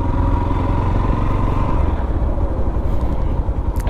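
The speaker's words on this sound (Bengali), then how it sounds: "তো বাইকটা একটু হাত ছেড়ে চালাই, দেখি কিরকম" A Yamaha FZ-X motorcycle being ridden on a road in Bangladesh, its engine droning steadily with rushing wind and road noise, heard from the rider's position.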